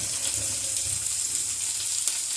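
Finely chopped garlic, ginger and green chili fry in a pan with a steady, soft sizzle that holds evenly throughout, with no talking.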